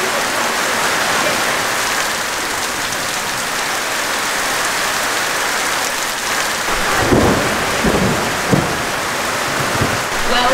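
Heavy rain pours steadily during an African thunderstorm, with low rumbles of thunder rolling in near the end over the constant wash of falling water.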